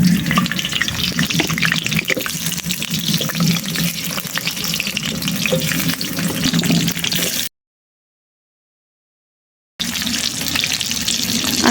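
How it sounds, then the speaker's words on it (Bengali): Potato pieces frying in mustard oil in a wok give a steady, dense sizzle and crackle, close and loud, with a brief silent gap partway through. "এখন আলুটা খুব সুন্দর করে লাল লাল করে ভেজে নেব"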